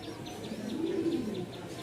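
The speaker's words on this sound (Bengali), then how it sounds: "খুবই জোস একটা কবুতর। মাত্র 2300 টাকা, অরিজিনাল পাকিস্তানি লাহোরি।" Soft, low cooing of a Pakistani Lahori pigeon repeats in a steady rhythm, close by at a pigeon market, alongside faint higher chirps.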